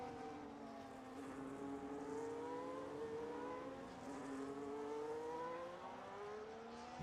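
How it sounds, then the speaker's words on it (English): Race cars heading out on track in the F1 25 video game at the Canada circuit: faint, steady engine tones rising and falling in pitch as they pass, distant and low in level. "You guys hear the cars"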